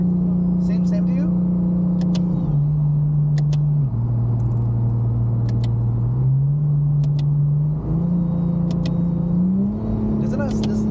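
Inside a Nissan R34 Skyline, the engine hums loudly and steadily, its pitch stepping down and back up through gear shifts, with faint clicks over the drone.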